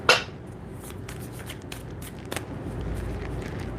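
Tarot cards are shuffled by hand in soft, papery riffles and slides, fairly close and quiet, with no talking.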